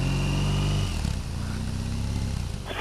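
A motorcycle pulls away on a mountain pass road in the Pyrenees near Portalet, its engine loud and close, revving and rising in pitch as it rides off.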